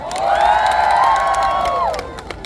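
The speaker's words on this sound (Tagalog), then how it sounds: "Padinig naman ako ng sigawan at palakpakan kay Mama number 1!" A live audience at the Taste of Manila festival in Toronto erupts in loud sustained cheering and shouting, a dense crowd roar that swells and then fades over a couple of seconds.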